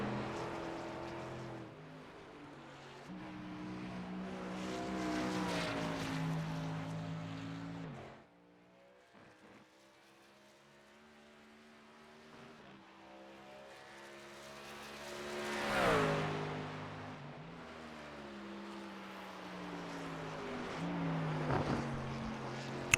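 Race car engine in a racing video game lapping Watkins Glen, droning with stepped pitch rises through the gears, easing off around a corner midway before climbing again, heard close and steady.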